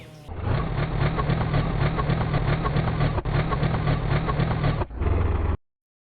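A motorbike engine idles in the video game My Summer Car, a steady loud rumbling drone that runs alone with no talk, briefly dipping near the end before cutting off abruptly.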